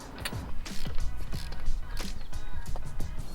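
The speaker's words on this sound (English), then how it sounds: "So now just torquing these up to the spec I was told to do it to." A torque wrench tightens wheel nuts on a Renault Megane fitted with spacers and stud conversion, giving a rapid series of close ratcheting clicks and creaks in a steady rhythm.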